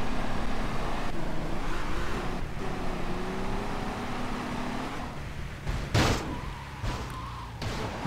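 A car in GTA Liberty City Stories drives along with a steady engine drone and rolling road noise. The engine pitch shifts a little, and a few thumps and knocks land near the end.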